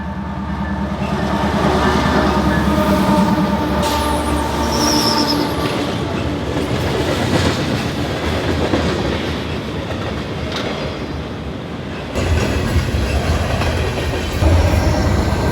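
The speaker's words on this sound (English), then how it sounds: "Southbound front runner over here." A southbound FrontRunner commuter train passes close by, loud and sustained, with steady clickety-clack of wheels on rail joints and bursts of wheel squeal throughout.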